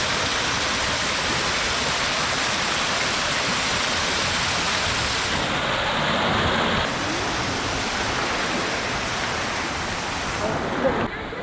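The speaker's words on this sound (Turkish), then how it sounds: "şelaleye geldik" Steady, full rushing roar of a waterfall in Hatay, Turkey, filling the whole clip, dense and continuous with no pauses; a voice may murmur faintly beneath it.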